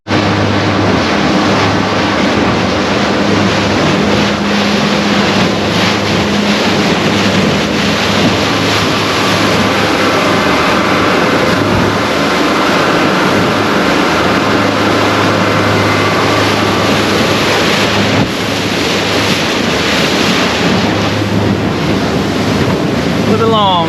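A custom-built fishing boat runs on small outboard motors offshore near oil rigs in choppy water, with a steady engine drone under heavy wind rush and slapping waves throughout.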